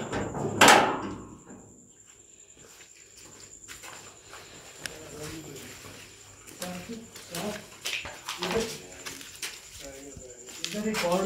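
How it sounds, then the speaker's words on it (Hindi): A door is shut inside a reportedly haunted house in Kashmir during a paranormal investigation, giving one loud, close thud near the start, followed by quieter room sounds and people talking. "दरवाजा बंद कर देते हैं।"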